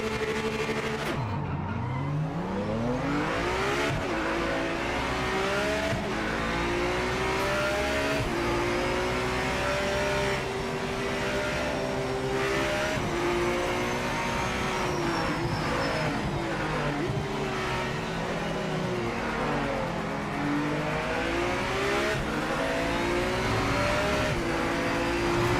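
A race car engine in the video game Project Motor Racing drones and revs continuously, pitch rising and falling through gear shifts, with occasional tire squeal, loud and steady throughout.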